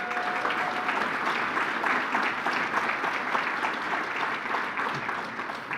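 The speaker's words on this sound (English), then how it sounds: "would we please give them a round of applause?" Applause from an audience at a county hall of fame gala, a sustained, full crowd of clapping hands holding a fairly constant level throughout, close and continuous.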